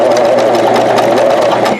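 A computerized four-needle serger sewing machine runs steadily on medium-weight fabric, a loud, close, continuous mechanical whir lasting nearly two seconds before it stops.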